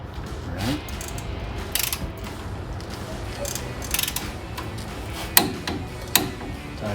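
A wrench tightens the tie rod nut on a Toyota Tacoma, giving off intermittent ratcheting clicks and metallic clinks near the front suspension, with a few sharp taps among quieter handling noise.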